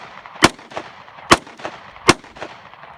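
Three loud gunshots ring out at an outdoor shooting outing, evenly spaced about a second apart, each followed by a short echo, with no talk over them.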